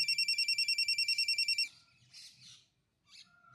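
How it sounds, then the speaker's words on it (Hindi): A phone rings with a rapid, pulsing electronic trill repeating evenly for about a second and a half, then cuts off, leaving only faint scattered sounds. "अम्मा का फोन।"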